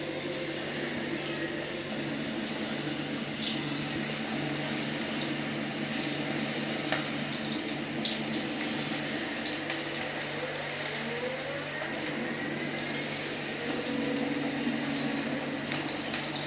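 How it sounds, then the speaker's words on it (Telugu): Gobi manchurian cauliflower pieces fry in hot oil, a steady dense sizzle and hiss that runs unbroken throughout, close and even in level. "ఇప్పుడు వేసేద్దామండి ఆయిల్ కాగేసింది"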